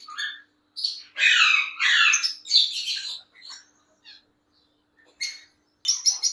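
Cockatiels squawk and chirp in harsh, bursty calls nearby, several loud screeches in a row followed by shorter chirps after brief pauses.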